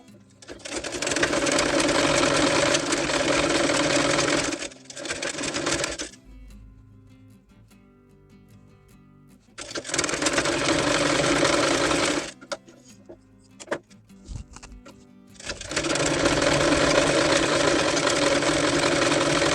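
A sewing machine stitches a waistband onto a V-neck blouse in three loud, steady bursts of whirring, with quiet pauses and small handling clicks between runs.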